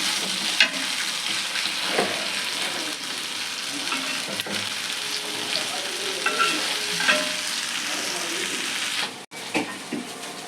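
Fish fries in a pan with a steady crackling sizzle and occasional stirring scrapes, close and continuous for several seconds, without talk.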